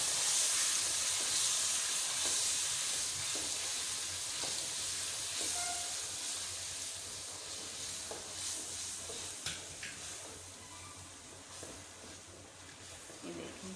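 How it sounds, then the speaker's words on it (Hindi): Sugar syrup hits browned halwa in a hot pan, bursting into a loud hissing sizzle that slowly settles into a softer bubbling crackle with occasional stirring clinks. "तो अब मैं इसके अंदर चाशनी को ऐड करती हूँ"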